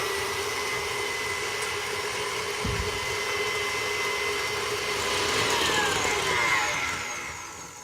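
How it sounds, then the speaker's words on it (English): A stand mixer whips eggs and granulated sugar on high, a steady loud motor whir with a continuous high-pitched whine that holds evenly throughout, with no talking. "You're going to add the eggs and the granulated sugar into a stand mixer"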